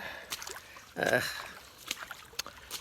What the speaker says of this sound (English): just walking through the water.